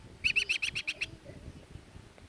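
A baby bird gives a quick series of about seven high, thin chirps in a rapid even rhythm, close and clear, then falls quiet over faint outdoor background noise.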